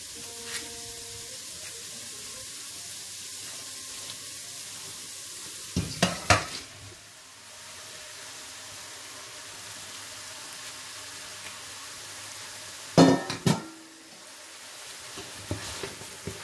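Lamb pieces sizzle softly in a pot with softened onions. The low, steady frying hiss is broken by two loud bursts of clattering as the meat goes in and is stirred.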